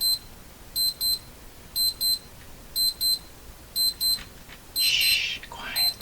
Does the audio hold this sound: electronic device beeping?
yes